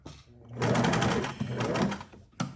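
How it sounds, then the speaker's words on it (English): Sewing machine stitching a cinch bag runs in a fast, even burst for over a second, then slows and stops, with a short final whir near the end. "Now we're going to run a stitch along here."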